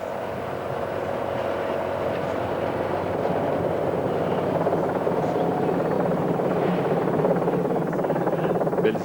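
A helicopter filming the 1997 Paris-Nice road cycling race, St André les Alpes to Antibes stage in southern France, gives a steady, loud, broadband rotor and engine drone that holds evenly throughout.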